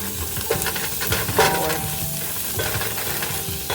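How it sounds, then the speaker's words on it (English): Garlic, ginger and lemongrass sauteing in a pan for a Malaysian curry, giving a steady close sizzle with light stirring scrapes and small bursts of crackle. "So now I added the garlic, ginger, and lemongrass, and they said to saute that for 2 more minutes."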